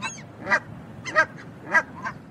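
Three loud, nasal Canada goose honks at a steady pace, with a softer fourth call at the end, fairly close against a low background rumble.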